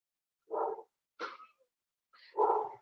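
Pet dogs give three short separate barks with quiet gaps between them, moderately close and fairly soft, the last bark fuller and longer.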